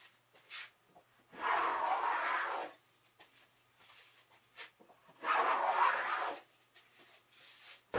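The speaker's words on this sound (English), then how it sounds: "So I'm cutting a tiny chamfer and then following up with my number 6 hollow to slightly break the edge" A number 6 hollow hand plane slightly breaking a chamfered edge on a solid wood desk top, two long close shaving swishes about four seconds apart with light handling taps between.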